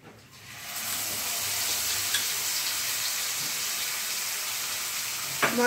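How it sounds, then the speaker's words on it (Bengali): Whole cardamom and cinnamon sizzle in hot oil in a kadai, a loud, close, steady hiss with occasional stirring clinks and scrapes, rising quickly at the start and running on with no talk. "ফোড়নটা একটু নেড়ে নিয়ে তারপরে যে মশলার পেস্টটা তৈরি করেছিলাম সেটা কড়াইতে দিয়ে দেব"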